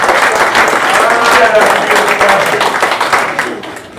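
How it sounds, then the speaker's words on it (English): A packed crowd at a Donald Trump event in Keene, New Hampshire, applauds comedian Mike Holmes, a loud, dense, steady wash of clapping with mixed voices that tapers slightly near the end. "Let me hear a round of applause for Mike Holmes."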